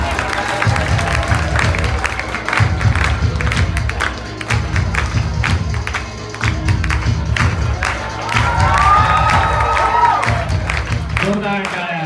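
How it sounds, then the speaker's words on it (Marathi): Loud crowd clapping and cheering for a teacher at a school Ganesh festival traditional day competition, with steady rhythmic applause throughout, an announcer's voice over it and some shouts near the end. "जोरदार टाळ्या वाजवायच्या शिक्षिका पालवेसाठी"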